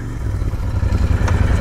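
A Royal Enfield Interceptor 650 motorcycle engine runs close by with a loud, low, throbbing rumble that stays steady through the short stretch.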